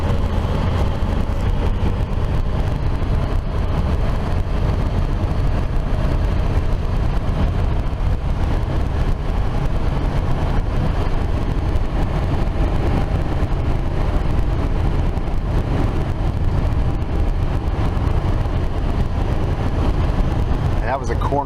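A car driving on the road to Slab City, heard from inside as a loud, steady low rumble of engine and road noise that holds constant throughout, with no talking.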